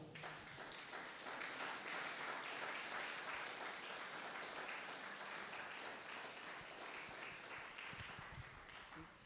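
A congregation at a church service applauds strongly and steadily, a dense wash of clapping from many hands that stays loud and even for the whole stretch with no voice over it.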